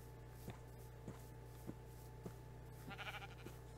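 A Minecraft sheep bleats in a short wavering call near the end, faint against a steady hum, with soft regular footstep taps throughout.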